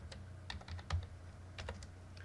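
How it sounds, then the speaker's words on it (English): Keys tapped on a computer keyboard in quick, uneven clusters of clicks, close and fairly quiet, with no talking over them. "a text cursor appears, and then I can type some words"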